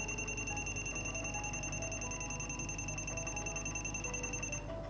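A VIP 3803-N clamp multimeter emits a continuous high-pitched electronic beep, steady and close, sounding alone for nearly five seconds before cutting off.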